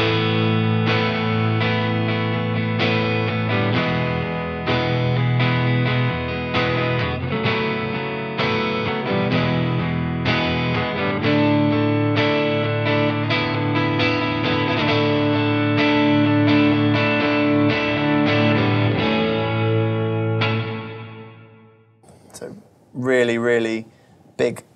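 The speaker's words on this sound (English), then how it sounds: "Big sound, lovely, just sounds like a proper plate reverb, really." An electric guitar plays chords through an amp fed into a Universal Audio OX Box with plate reverb, giving a big, sustained, distorted sound that rings on, followed by a brief burst of talk at the end.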